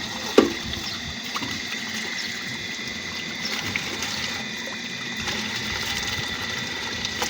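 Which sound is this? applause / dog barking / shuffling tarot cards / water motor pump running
water motor pump running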